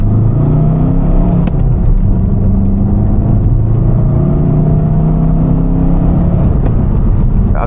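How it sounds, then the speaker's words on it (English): A tuned 184-horsepower car engine while driving, a loud continuous drone with a deep steady rumble that rises slightly in pitch, heard from inside the car without talk. "Just listen to the engine."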